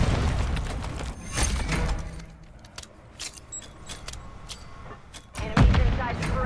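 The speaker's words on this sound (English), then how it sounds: "Ain't no way a grenade just bounced off the wall" In Call of Duty: MW3 gameplay, a grenade bursts with a heavy boom and debris crackle, followed by scattered bangs and a second low thump near the end, with a player talking over it.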